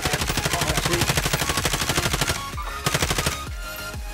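Rapid, loud automatic gunfire in Call of Duty Warzone, a dense continuous burst followed by several slower, separate shots, close and unaccompanied by talk.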